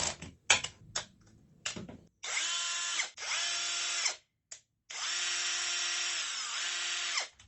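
A cordless 5-in-1 multi-head screwdriver drill whirs at low speed in two sustained runs of a few seconds each, close and alone, preceded by several short clicks and handling knocks.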